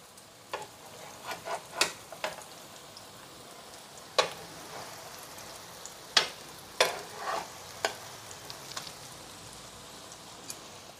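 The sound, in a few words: soya chunk cutlets shallow frying in a pan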